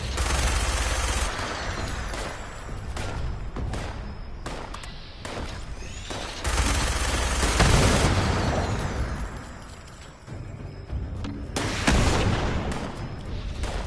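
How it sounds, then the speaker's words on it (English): A missile launcher and other weapons firing in Fallout 76, heard as a string of heavy booms and crackling gunfire bursts that rise and fall over fourteen seconds, fairly loud with no talking. "Someone's got a missile launcher down there."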